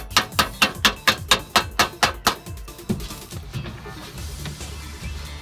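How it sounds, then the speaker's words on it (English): Sheet metal on a Mitsubishi L300 motorhome wheel arch is hammered into shape: about eleven sharp, evenly spaced metallic blows, close and loud, then a single later strike before quieter workshop noise. "started to hammer it into shape"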